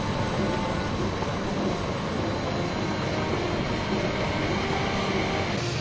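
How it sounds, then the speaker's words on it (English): A train rumbles along steadily with a dense rattling roar of wheels on rails, continuous and moderately loud throughout. "The guard blew his whistle, and Owen departed."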